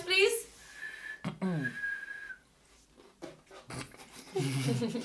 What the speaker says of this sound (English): You can't even whistle.